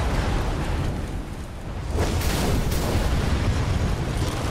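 Computer towers blown up in DC Universe Online, heard as a continuous roar of blasts and crackling that surges into a louder, brighter explosion partway through and stays loud.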